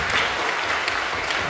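A church congregation applauds together at a Friday night worship service: a dense, steady wash of clapping from many hands that holds evenly for the whole moment without a break.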